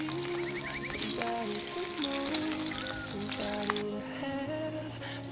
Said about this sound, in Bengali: মাছগুলোকে উল্টে দিয়েছি, এখন হচ্ছে অপর পাশ খুব ভালোভাবে ভেজে নেব।